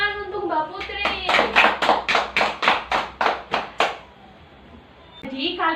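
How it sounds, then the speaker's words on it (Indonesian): Children in a classroom clap together in a steady rhythmic pattern of about ten sharp, loud claps, with voices heard briefly before and after. "beri tepuk tangan untuk Mbak Putri."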